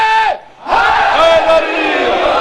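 Congregation at a Shia majlis about Imam Hussain chanting a religious slogan in unison, loud and close, with a short hush before the crowd's raised chant swells and holds.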